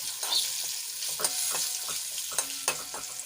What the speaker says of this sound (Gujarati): સરસ રીતે થોડી વાર માટે તેલમાં આપણે સાંતળી લઈશું અડધી મિનિટ માટે